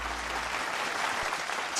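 Studio audience applause for a singer on a televised singing competition, a dense, steady wash of clapping throughout with no talk.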